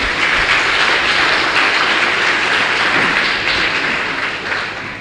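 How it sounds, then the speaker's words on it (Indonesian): Audience applause at a Nahdlatul Ulama centenary gathering with Gus Muwafiq, a dense, steady wash of clapping from a large crowd that holds loud for about five seconds before easing slightly at the end. "Tepuk tangan dong untuk semuanya."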